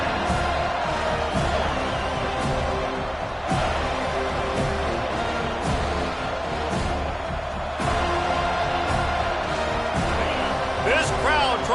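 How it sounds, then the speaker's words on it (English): Loud football stadium crowd roaring continuously in a packed home venue during a kickoff return, with steady cheering and occasional sharp bursts, under a commentator's voice. "This crowd trying to show them what it's going to be like all day in this house."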